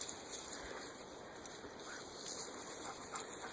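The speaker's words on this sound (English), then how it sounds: "There's a family of ducks out there." A family of ducks quacking outdoors, faint and distant, scattered calls over steady background hiss with no talking.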